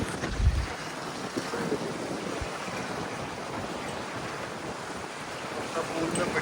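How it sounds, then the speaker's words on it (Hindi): Strong wind gusts across an open poolside in Dubai, a loud, steady roar of microphone buffeting that continues without a break. "तो भाई बहुत तेज़ हवा चल रही है, बहुत तेज़।"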